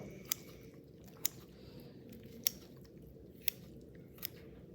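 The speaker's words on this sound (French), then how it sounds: "je vais couper dans mon ventricule droit" Scissors snip into the right ventricle of a pig heart during dissection: five faint, sharp clicks spaced about a second apart over a quiet, steady background, close by, with no speech.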